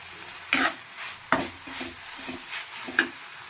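Stuffed brinjal masala with tomato, coriander and grated coconut is stirred and fried in a pan: a low steady sizzle broken by four sharp scraping clacks of the spatula against the pan, near and clear with no talking.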